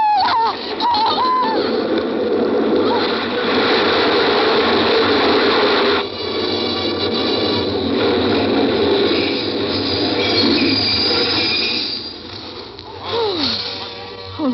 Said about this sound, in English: Oh, the train was imminent.